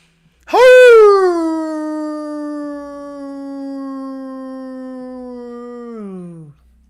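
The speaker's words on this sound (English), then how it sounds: "Getting better at those howls." A single long howl rises sharply, then holds a steady, slowly falling tone for about six seconds before tapering off, loud and close with nothing else heard.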